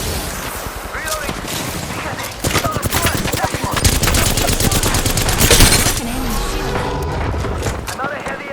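Rapid gunfire from Apex Legends rattles in dense automatic bursts, loud and close, with brief pauses between volleys and in-game voice callouts over the shooting.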